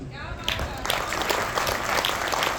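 Audience applause at a poetry gathering, a dense stretch of clapping that swells in after a brief pause and continues steadily, with someone talking over it.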